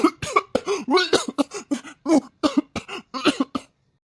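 A man coughs repeatedly in close, loud bursts, a rapid series of harsh hacks and throat-clearing over about three and a half seconds, then silence.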